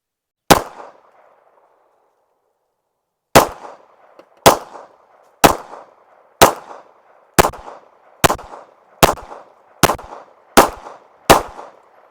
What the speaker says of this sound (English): we'll test it out by shooting it with some 9mm